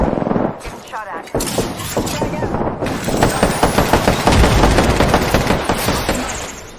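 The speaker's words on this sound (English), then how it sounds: "Getting shot at." Dense automatic gunfire in Apex Legends, rapid overlapping bursts and shots that build to a loud, continuous barrage with game voice callouts layered in.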